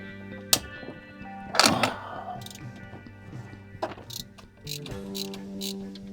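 A wrench works an 11mm alternator bolt on a Mercedes SL, giving a few sharp metallic clanks and ratcheting clicks against a steady engine-bay hum, close and fairly quiet.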